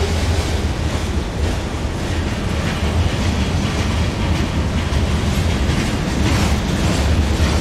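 A heavy freight train loaded with coal, mixing coal hoppers and box cars, rolls past close by with a loud, continuous roar and rhythmic wheel clatter that holds steady throughout, with no talk.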